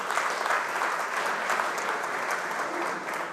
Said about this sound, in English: once again, a round of applause for our panel